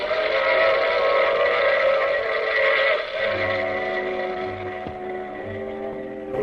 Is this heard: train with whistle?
yes